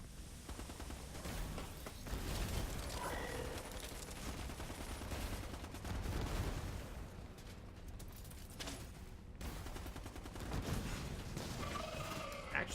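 Havok Launcher weapon in the sci-fi game Livelock, repeated heavy blasts and explosive bursts over dense continuous combat din, loud and busy throughout with rumbling impacts.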